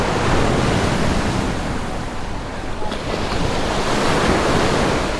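Steady ocean surf washing onto the beach at Laguna Beach, California, beside a sandstone formation, a loud continuous roar with wind buffeting the microphone and no voices.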